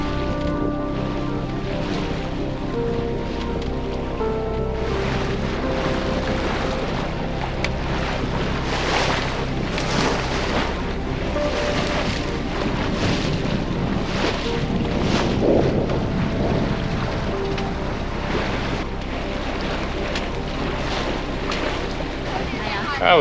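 Steady wind rushes over a sailboat beating straight into the wind while tacking, a continuous broadband roar with water noise beneath, loud and close throughout, and faint voices drifting in underneath.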